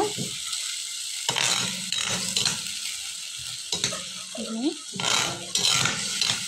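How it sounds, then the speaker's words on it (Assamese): Ginger, garlic and cashew paste fries in hot oil in a pan, with a steady sizzle broken by bursts of stirring and scraping. A voice talks over the cooking. "এইখিনি মই খুব ভাজিব লাগিব।"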